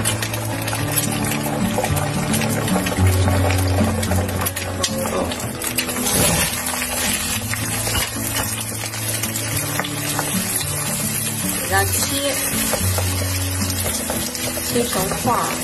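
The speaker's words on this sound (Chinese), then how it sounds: "然后等鸡蛋它开始冒泡的时候，它现在已经冒泡了，然后放入豆腐。" Eggs frying in hot oil in a pan as tofu goes in, a steady bubbling sizzle that runs the whole time with scattered clinks, while someone talks intermittently.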